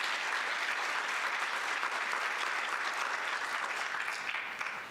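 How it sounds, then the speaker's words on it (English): Steady, full applause from a conference audience at a Nashville event on African American history and culture, a thick continuous wash of many hands clapping that holds strong throughout and tapers slightly at the end. "Let's give them applause"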